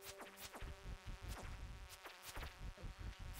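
Bees buzz in the video game Stardew Valley, with faint, quiet whining drones mixed with soft thumps and clicks of game sounds.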